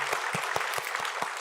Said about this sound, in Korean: 우리 박수 한번 치면서 시작하도록 하겠습니다.